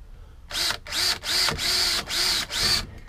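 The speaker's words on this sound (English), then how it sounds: "I'm going to drill a pilot hole." A power drill whirs in six short bursts while drilling a pilot hole for a screw on cargo door ball brackets, rising and cutting off between each, close up with brief pauses in between.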